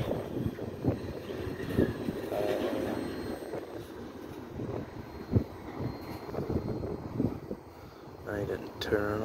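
A Norfolk Southern freight train led by a Conrail heritage locomotive rolls past, a broad steady rumble with people talking over it throughout.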